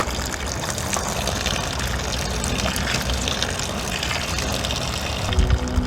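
Maple syrup draining from an outdoor boiling pan, heard as a steady, fairly loud liquid rush and gush that runs without a break, with a few low knocks near the end.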